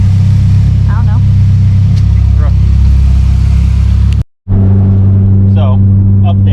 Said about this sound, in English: So it's idling fine after I unhook the blow off valve.